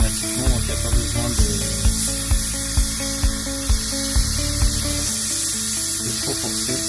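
A hot-air station blowing onto an iPhone 5/5s circuit board during a soldering repair, a constant hissing rush of air with a low hum and faint regular clicks underneath.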